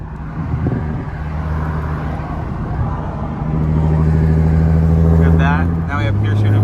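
A 1500hp Nissan GT-R pushed to shoot flames from its exhaust, its engine droning loudly and close, then swelling louder and harsher partway through, with voices talking over it.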